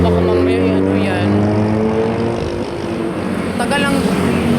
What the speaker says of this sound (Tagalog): dinadaanan lang kami ng tricycle